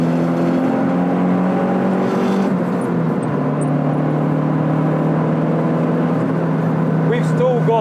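Turbocharged Renault Clio 182 hot hatch engine pulling at half throttle, a steady loud droning tone heard from inside the car, holding even pitch with a faint whistle near the end.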